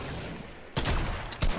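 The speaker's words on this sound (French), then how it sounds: "En face, ça shoot" Gunfire in the video game Fortnite, two short bursts of shots after a stretch of quiet background, loud and close.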